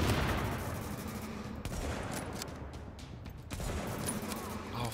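Gunfire in the video game The Division, with a dense burst of overlapping shots and a steady battle roar, then a few separate sharper cracks later on, all loud and close.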